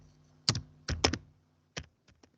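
Keys on a computer keyboard clatter in short bursts, a few quick clustered taps, then a pause and a couple of isolated strokes, close and fairly quiet.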